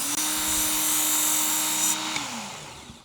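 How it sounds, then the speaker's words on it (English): A belt grinder with a coarse belt sharpens a knife blade, a steady high whine holding for about two seconds before the pitch sags and winds down as the blade comes off. "I've got both sides sharpened with the coarse belt"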